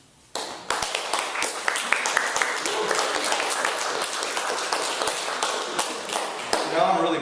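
An audience at a poetry reading in a literary series breaks into sudden applause, dense and sustained close clapping from a small crowd that continues for several seconds with a voice rising near the end.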